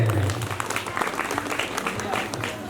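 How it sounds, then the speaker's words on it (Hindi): Audience clapping welcomes a guest at an annual gurukul ashram festival sermon, a short burst of applause layered under and after a voice. "ताली बजा करके स्वागत करेंगे"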